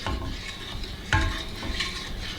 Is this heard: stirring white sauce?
yes